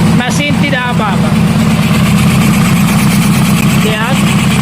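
A car engine used in a motorcycle idles loudly and steadily with its number 4 cylinder deactivated, a close, even low rumble running the whole time, with brief voices over it near the start and end.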